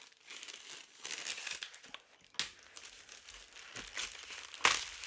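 A mail package being cut open, with crinkling, tearing plastic and paper across several bursts, sharper rips near the middle and end, close and moderately loud, with no talking.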